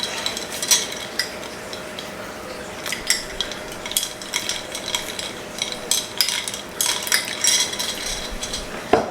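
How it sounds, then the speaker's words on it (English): A spoon stirring risotto in a pot in a home kitchen, with light scraping clinks and soft bubbling repeating irregularly at close range, no talking. "I gotta mix my risotto"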